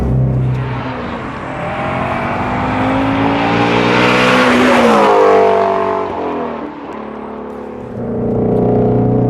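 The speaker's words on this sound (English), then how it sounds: "it's literally a little race car for the road" A 2017 Ford Mustang Shelby GT350R engine revs loudly and continuously, pitch sweeping up to a peak midway, dipping briefly, then climbing again; close and steady with no talking.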